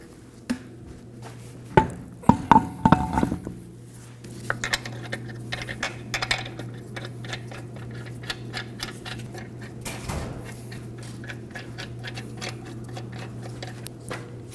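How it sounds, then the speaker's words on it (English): Front wheel going onto a 2009-2014 Ford F-150: a burst of metallic clunks and rattles at first, then scattered light clicks and ticks over a steady low hum in the garage. "We can go ahead and install our wheel."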